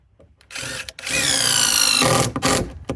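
Power drill driving the last long screws, about 12 inches, into wood while building an off-grid cabin in the Arctic, a loud, close, sustained whine with a brief pause and a short final burst.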